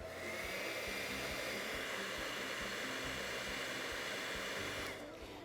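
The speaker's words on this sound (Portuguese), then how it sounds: "Por isso que eu passo o secador." A hair dryer blows continuously at close range to dry a layer of paint, a loud steady whooshing roar that cuts off abruptly just before the end.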